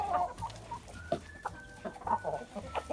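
Leghorn, Bielefelder and Amrox hens and a rooster cluck in short, irregular bursts close by, with a few louder squawks mixed in over faint farmyard background noise in winter.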